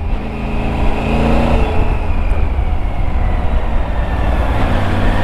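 A 2020 Triumph Tiger 900 Rally Pro motorcycle being ridden, its engine droning loudly and steadily close by with rising and falling revs and strong wind rush, no voices.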